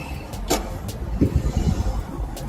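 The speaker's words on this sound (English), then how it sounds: "So we're just going to quickly show off the keyless entry on this car." A Volvo XC60 T8 Hybrid unlocking through keyless entry gives a short mechanical click and clunk from the door locks, followed by a few soft thumps over a quiet outdoor background.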